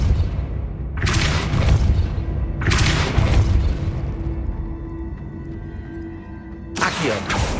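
Depulso spell cast in Hogwarts Legacy, loud booming bursts repeating at steady intervals with a low hum between them.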